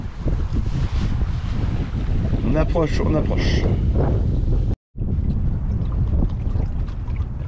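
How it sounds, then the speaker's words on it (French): A wind gust buffets a sailboat nearing port in about 13 knots of breeze, steady loud rushing across the microphone with water and hull noise, a brief dropout near the end, and someone speaking briefly over it. "Petite rafale, 13 nœuds de vent."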